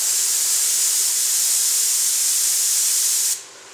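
Compressed air hissing steadily from an air spray gun with the trigger held, a close, constant broadband rush that cuts off abruptly near the end.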